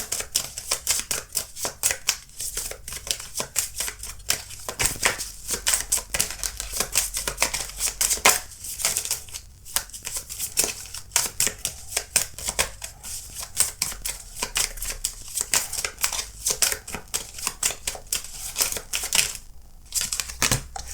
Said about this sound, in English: let's pull your oracle cards